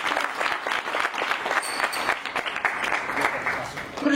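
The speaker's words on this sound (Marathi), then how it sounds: "जोरात टाळ्या झाल्या पाहिजे।" Loud, sustained applause from an audience at an Ashadhi Ekadashi devotional event honouring a guest, dense clapping continuing without pause, with some voices mixed in.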